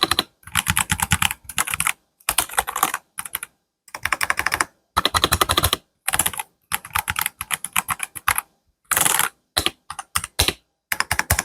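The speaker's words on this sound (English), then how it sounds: "I'm going to set up my microphone down there so you can hear some of the keycaps right now" A 75% compact wireless mechanical keyboard, the LTC Nimbleback NB841 Pro with hot-swap switches, is typed on close up: loud bursts of rapid keycap clacks in short runs separated by brief silent pauses, with no talking.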